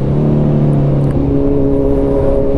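A Kawasaki Z900RS motorcycle with an Arrow exhaust revs up close, its loud engine note climbing in pitch partway through and holding a strong, steady tone without any voices.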